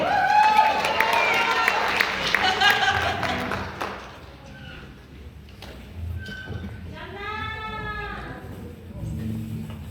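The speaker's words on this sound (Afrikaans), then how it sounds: "Kom ons gee vir Jana 'n hande klap vir 'n vinnige ruil." Applause and cheering from a concert audience at a show rise loudly at first, then fade under a band playing and someone speaking in Afrikaans from the stage.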